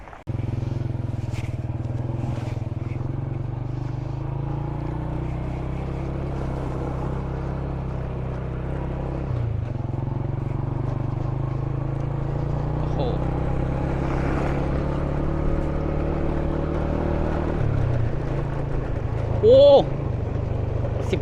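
A vehicle engine approaching near the Blue Lagoon 3 viewpoint: a loud, steady low drone of the motor for the whole stretch, with a person talking over it at times.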